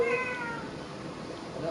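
A person imitates a cat's meow with a short, rising then falling mew, fairly faint over a steady background hiss.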